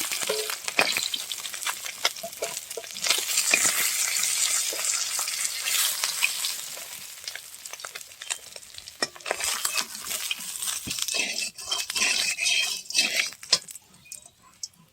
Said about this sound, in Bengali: এখন আমি বাকি মাছগুলো ভেজে নেব।